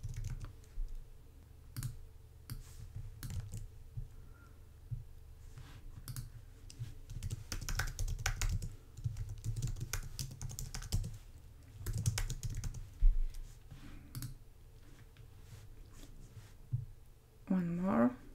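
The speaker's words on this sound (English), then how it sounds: "I'm using keyboard shortcuts to copy and paste module styles in between" Quiet computer keyboard typing for shortcuts: scattered clusters of soft key clicks and taps at an irregular pace, faint and close, with low background hum.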